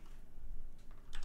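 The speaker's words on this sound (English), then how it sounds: "I'm typing in the wrong place." Quick light keystrokes on a computer keyboard, a soft burst of clicks near the end over a low room hum, fairly quiet and close.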